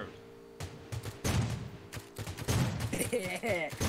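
Gunfire in the mobile battle-royale game Rules of Survival, shown as a few sharp shots and short bursts fired from a vehicle on a road, loud and close, with players talking over and between the shots.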